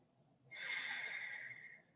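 A slow, steady breath drawn in and released through the nose, held for over a second at close range, the kind taken while lying with legs raised up a wall in a yoga stretch; soft room hush surrounds it, no talking.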